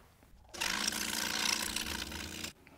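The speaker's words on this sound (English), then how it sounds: "we want to cut counterclockwise around the design, keeping this piece that's going to drop down on the right" A saw cutting a double bevel marquetry design with its blade tilted, making a continuous buzzing whir for about two seconds that starts and stops abruptly, close and alone.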